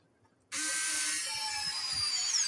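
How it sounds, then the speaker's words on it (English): A power driver runs a new screw into a PRS guitar neck during a barn-find restoration, switching on abruptly and holding a steady, high, close whine to the end. "I'm putting a new screw in there because the one that came out was very rusty"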